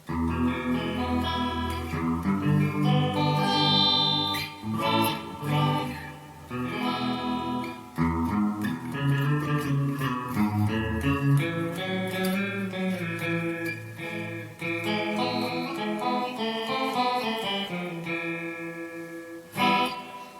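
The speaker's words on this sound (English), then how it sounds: "Now let's try the detune setting. And this is a cool setting because it's like a chorus." Electric guitar played through a Donner ABY Box pedal on its detune setting, giving a shimmering chorus-like doubled tone; chords and single notes ring out with sustained, wavering harmonics, close and alone.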